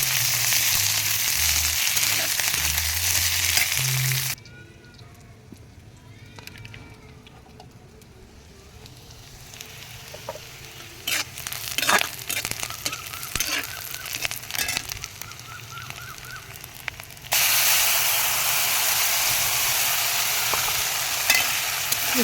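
Dried red chillies, cardamom, bay leaf and onion hitting hot oil for a Bengali raw jackfruit kofta curry, a loud hiss and crackle of tempering spices with scattered sharp pops, then a softer steady sizzle before louder frying returns.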